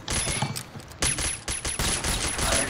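Rapid bursts of automatic gunfire from the Combat Arms shooter game, dense crackling volleys with short gaps between them, loud and sustained.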